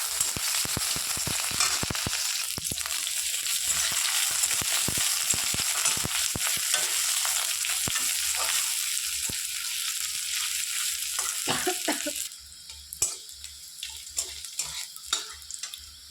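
Dried red chillies and chopped chillies fry in oil for a shak ghonto of greens: a loud, sustained sizzle full of crisp pops and crackles that drops to a quieter, sparser spatter toward the end.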